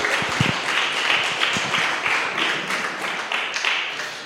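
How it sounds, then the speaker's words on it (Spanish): A church congregation applauds in a dense, steady wash of clapping from many hands, with a few nearby distinct claps standing out early on and no talk over it. "Demos un aplauso al Señor."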